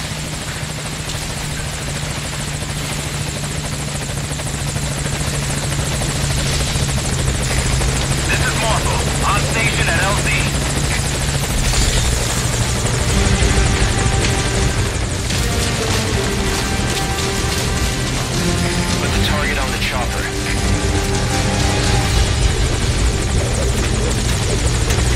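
Video game helicopter from Metal Gear Solid 5 arriving for a pickup, a steady loud rotor roar with engine whine running throughout, swelling slightly as it draws near, with game voice lines over it.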